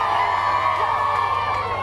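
A crowd cheering outside England's team hotel as players arrive, a continuous loud wash of excited screams and whoops, high and shrill, sustained without a break.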